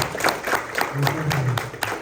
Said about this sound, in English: let's clap it up for Deja.